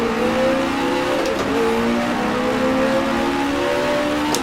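A race car locks its brakes briefly and drops to second gear for a hairpin. The engine drones loud and steady, with a blip of revs and a short tire squeal as it changes down. No voices.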